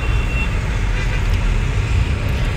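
Steady road traffic rumbles outside Delhi airport, a dense mix of car and truck engines with distant horn toots, continuous and fairly loud with no voices.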